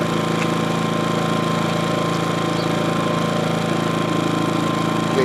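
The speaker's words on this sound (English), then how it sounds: "we're going to see how well this little generator will run this compressor" A Harbor Freight Predator 2000 generator in eco mode drones steadily while powering a Harbor Freight pancake air compressor, a constant loud mechanical hum and chug with no pauses.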